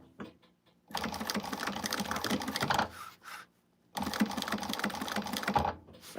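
Two fast, rattling bursts of a sewing machine stitching a seam, close by, each lasting a few seconds with a brief pause between and only faint handling noise.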